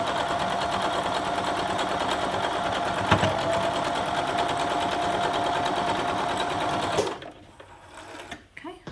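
A sewing machine stitches fabric pieces for a quilt in a steady, fast, close whirring run for about seven seconds, then stops abruptly, leaving quiet handling sounds and a voice talking.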